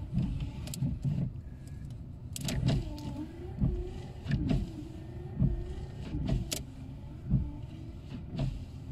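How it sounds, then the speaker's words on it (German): Windshield wipers running on one of a collection of old parked cars, the motor whirring in a regular back-and-forth rhythm with a soft thump at each stroke, close and fairly quiet, with no talk. "die Scheibenwischer funktionieren schon mal"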